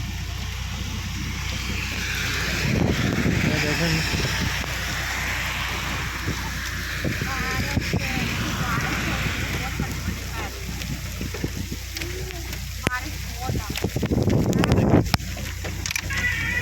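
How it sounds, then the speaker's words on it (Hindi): Heavy rain and hail drum steadily on a car roof on the Madina road, with scattered harder hailstone impacts, while a person talks throughout over the dense wash. "बारिश बहुत ज़्यादा तेज़ हो गई है देखें। और जो साला बारी का ओले का साइज़ है ना वो अभी कम हो गया है"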